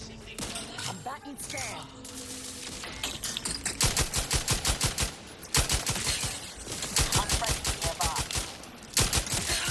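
Rifle gunfire in The Outer Worlds 2, loud rapid bursts of sharp repeated shots in quick rhythmic runs, pausing briefly between volleys, with a voice talking in places.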